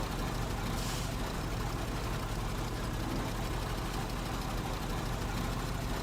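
A heavy truck engine idles steadily in the off-road driving game Snowrunner, a constant low rumble with no break.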